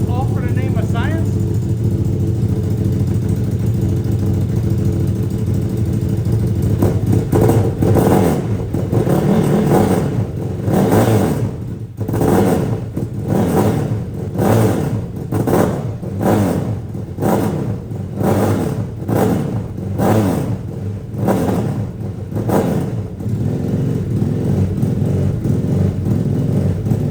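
A turbocharged CFMOTO UForce 1000 side-by-side with a 950 HO engine, untuned and reluctant to take throttle, idles and then is blipped through a series of repeated sharp revs, loud and close, with a person talking over it.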